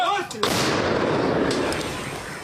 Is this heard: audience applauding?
no